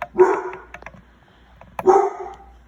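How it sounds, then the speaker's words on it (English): A pet dog barking indoors, two loud, close barks about a second and a half apart, each with a short trailing yelp, separated by quiet room noise. "my dog's going off about something"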